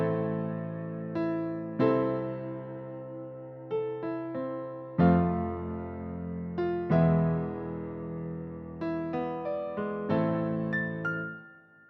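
Dark piano chords programmed in FL Studio 12 with the top notes removed, a sparse sequence of soft, low, sustained chords with occasional quick higher notes, each chord fading before the next.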